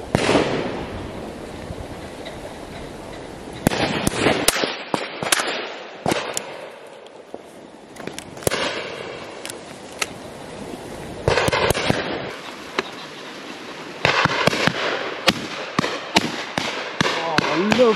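Shotguns fire at a driven pheasant shoot on Exmoor, several sharp loud bangs in irregular clusters with people talking and exclaiming between shots.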